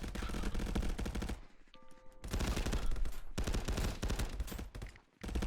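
Loud automatic gunfire rattles in a hectic VR shooter played on a Quest 3 through PCVR, with dense rapid bursts broken by short pauses and a brief lull near the end.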